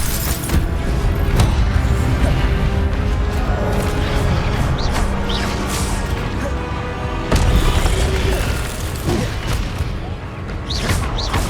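Expelliarmus spell effect in the Hogwarts Legacy video game: a dense, booming magical blast with crashing impacts and a sharp burst near the middle, set against a constant loud wash of game action.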